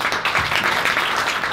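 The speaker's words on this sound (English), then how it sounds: "give a very warm applause for our last speaker today here on stage." Sustained audience applause welcoming a speaker onto a stage at a marketing talk, a dense, steady wash of many hands clapping throughout, close and loud.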